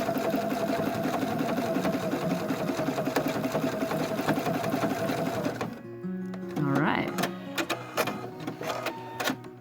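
A domestic sewing machine back stitching the foot cuff of small doll-sized leggings, running in a steady close mechanical whir that stops partway, followed by a few short clicks and handling sounds.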